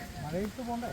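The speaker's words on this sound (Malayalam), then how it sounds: "അപ്പോൾ മഴ ചാറ്റുന്നുമുണ്ട്" Light rain drizzle patters steadily in the background in Wayanad while people talk over it.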